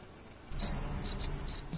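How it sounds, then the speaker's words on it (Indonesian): Crickets chirp at night near a cemetery in short, sharp trilling bursts, several pulses repeating irregularly over a faint background after a quiet start. "Suara jangkrik mengerik bersahutan di mana-mana."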